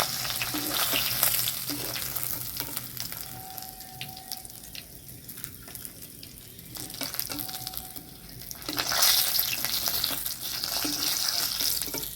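Pieces of rohu fish fry in hot oil in a pan, giving a dense, steady sizzle that swells louder near the end, with brief clinks and movement over it.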